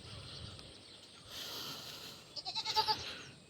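A rain-soaked goat gives a short wavering bleat toward the end, fairly faint over a steady background hiss of rain.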